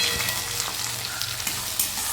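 Ginger, cumin and green chilli paste frying in hot oil while paneer is being cooked, giving a steady close sizzle and crackle throughout, with light stirring and no talk.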